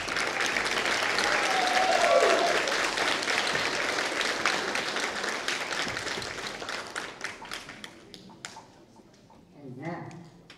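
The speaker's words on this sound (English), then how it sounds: "Let's give the students another round of applause" A school spring concert audience applauds the students, dense clapping that builds and then thins into scattered claps, with faint voices and a brief whistle early on.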